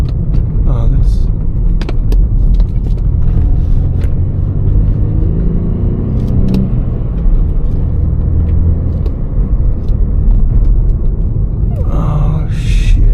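A BMW F30 328i pulls hard in third gear, heard from inside the cabin as a loud, constant low engine and road rumble. A voice speaks over it and faint jingling or rattles come through near the end.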